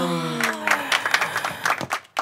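Audience applause fills a stand-up comedy show, a crowd clapping in quick uneven bursts at moderate volume, with a brief tonal voice-like sound at the start.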